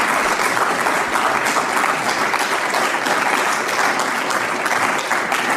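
A crowd applauds steadily, dense clapping holding at full strength from start to finish.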